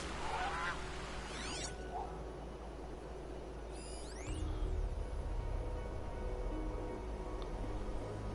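Geese honk in the video game Horizon Zero Dawn, with a few quick calls early and another cluster midway over a constant rumbling outdoor ambience.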